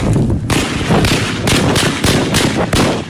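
Bursts of rapid automatic gunfire crackle in quick succession after kamikaze explosions, with sharp, loud reports and heavy blasts repeating throughout.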